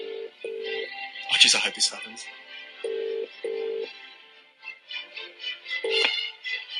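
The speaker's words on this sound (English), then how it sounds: "let's give this hospital a call Okay. and see if we can get Kate Middleton or maybe even Prince Wills on the phone tonight. So the number's going in." Telephone number dialed on a keypad toward a hospital, a series of distinct touch-tone beeps in short bursts followed by a ring tone, with a person speaking briefly over the tones.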